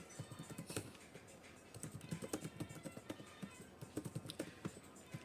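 Quiet, fairly rapid typing on a computer keyboard, with light irregular key taps clicking close by.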